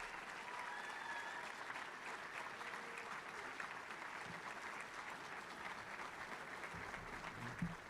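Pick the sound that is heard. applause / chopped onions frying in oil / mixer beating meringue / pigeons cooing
applause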